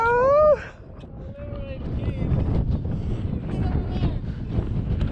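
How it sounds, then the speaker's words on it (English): Wind gusts steadily across a mountain, roaring as broad, rumbling buffeting against the microphone after a brief voice at the start. "Wind, man, wind."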